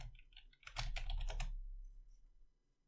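Quick burst of typing on a computer keyboard, a rapid cluster of close, crisp key clicks lasting under a second before falling quiet.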